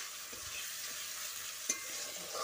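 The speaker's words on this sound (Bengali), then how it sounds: "দেখো ভালো করে নেড়েচেড়ে আমি পেঁয়াজ রসুনটা ভেজে নিলাম।" Onion and garlic fry in a pan with a steady soft sizzle while being stirred, and a few scraping clinks from the utensil sound nearby.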